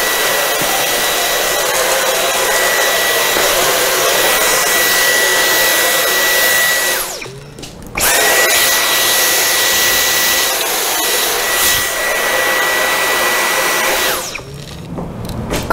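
Dyson V10 cordless stick vacuum cleaner running at close range, a loud steady high-pitched whine cut off twice, with a short pause before it starts again.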